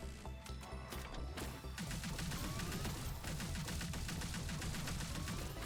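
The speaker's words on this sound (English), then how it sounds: "is this another assault rifle? It is." Rapid assault rifle fire in the cyberpunk roguelite shooter ArcRunner, loud bursts of shots in a fast continuous rhythm with clattering impacts, no talk over them.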